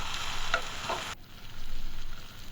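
Chicken being stirred and fried with onions for a home-style chicken curry, a broad sizzle with scraping stirs for about a second, then a quieter steady fry that swells again toward the end.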